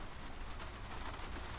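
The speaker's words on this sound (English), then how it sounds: "it started to rain a lot, unfortunately, so you'll definitely be able to hear that on the microphone" Heavy rain drums on a caravan roof, a dense, continuous patter with a low rumble underneath, steady throughout and fairly quiet, with no talking.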